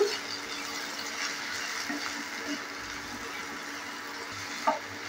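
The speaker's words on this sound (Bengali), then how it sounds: "তুলে নেওয়ার পর নেড়ে চেড়ে নিচ্ছি আবারও।" Matar paneer is stirred in a pan once the lid comes off, a continuous soft sizzle with faint scraping against a steady background hum, plus one brief knock near the end.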